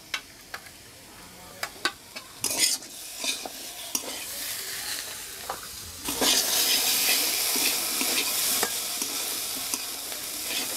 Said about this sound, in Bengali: সবগুলো মশলা সবজির সাথে ভালো করে মিশিয়ে নিচ্ছি